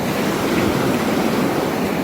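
Surf rolls in at a beach near Charleston, South Carolina, a constant loud wash of breaking ocean waves with some wind buffeting the microphone and no voices.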